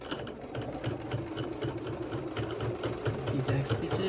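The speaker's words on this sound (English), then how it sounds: "we're going to go ahead and take some back stitches here and sew right up the side." A sewing machine runs continuously while sewing back stitches up the side of a small bag, a close, steady whirring hum with fast rhythmic needle chatter.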